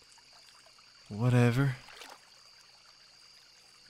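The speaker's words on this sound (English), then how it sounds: "Crickets. And the bubbling brook." Soft, steady bubbling brook ambience from the Stardew Valley video game, a faint continuous trickle behind a brief spoken word from a nearby voice.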